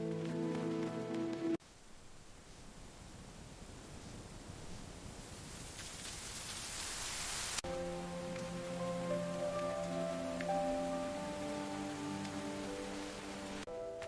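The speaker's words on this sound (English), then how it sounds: "This rain is getting heavy." Heavy rain pours steadily on a mountain trail, a dense hiss that holds through the middle stretch, with music playing over the start and end.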